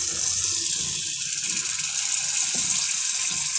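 Water poured into bitter gourd gravy in a pan makes a steady, loud rushing hiss that stays close and continuous, with faint clinks and no voices.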